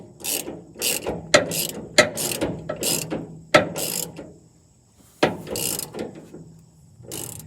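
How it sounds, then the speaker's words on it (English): Socket ratchet tightening a bushing through the bed of a 2001 Chevrolet 2500HD truck during a fuel transfer tank install, with bursts of close, loud clicking that repeat in a steady back-and-forth rhythm and pause briefly between strokes. "I'm going to put a socket on that and tighten it down before I put the solenoid on"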